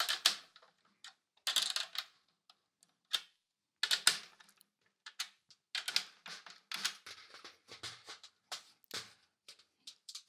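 Metal drum key turns the tension screws beside the snare wires on a snare drum, producing a series of faint, irregular clicks and ratchety ticks in short bursts with quiet gaps, close up and alone.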